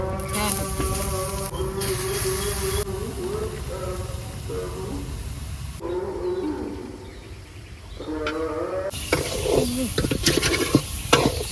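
Leafy greens (shak) frying and being stirred in a pan in a village kitchen: a steady sizzle with stirring scrapes, overlaid by long tonal animal-like calls nearby that come and go.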